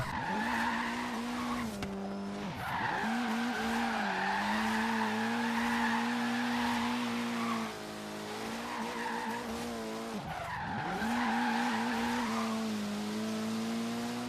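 A Ford Focus RS in Forza Horizon 3 drives with a loud, sustained engine drone as its tires squeal through long skids, the pitch dipping and climbing again between slides.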